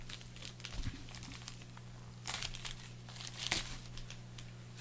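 A large paper envelope mailed from Italy being torn open, with faint crinkling, rustling and a few sharper tearing bursts, quiet and close.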